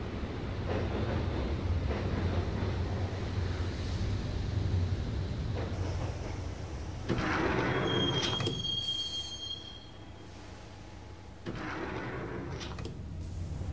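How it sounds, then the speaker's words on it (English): Subway train ride in the Max Payne video game, a loud steady rumble of rolling wheels with a long metallic screech and rising brake squeal midway, heard alone without voices. "the train doors had already shut behind me, and I was in for the ride"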